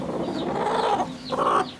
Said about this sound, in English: You can hear her. That's a broody hen.